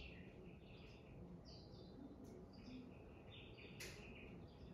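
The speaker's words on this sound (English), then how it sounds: "the chirping of the birds" Birds chirp and tweet in short scattered calls inside a quiet resting space, soft and somewhat distant over a steady low background hum, with no talking.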